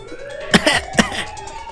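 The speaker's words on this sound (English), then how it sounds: "she's coughing so hard she can't even talk" A woman's harsh, strained coughing fit from the character Clover in the video game Zero Escape 999, with two or three forceful coughs followed by raspy breaths, close and loud.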